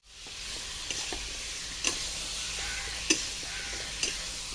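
Potatoes, pointed gourd and raw banana being fried together in gravy give a steady, moderate sizzle with a few brief utensil clinks, no voices.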